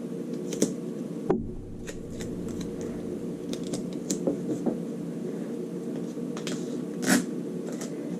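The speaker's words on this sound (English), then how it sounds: "Let's tape everything in place." Tape being torn and pressed down to fix paper pattern pieces in place while drafting neckline darts: scattered sharp crackles and tearing snaps over a quiet background, with one louder rip near the end and no talk.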